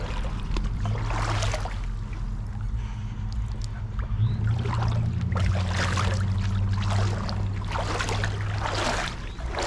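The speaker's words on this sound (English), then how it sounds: "This is a semi-disappointing creek." Steady outdoor rush of water flowing in a city creek, with a continuous low rumble and brighter splashing surges.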